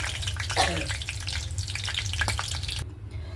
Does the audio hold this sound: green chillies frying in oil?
yes